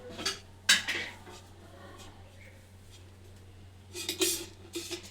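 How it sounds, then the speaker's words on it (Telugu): A metal kadai is set onto a kitchen stove, making a few light clanks and scrapes of cookware against the burner, fairly quiet over a low steady hum. "ఇది నేను ఇప్పుడు కడాయి పెట్టిన, వేడవుతుంది."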